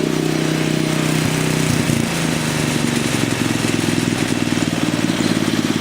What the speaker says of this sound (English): Let's see what the idle's at.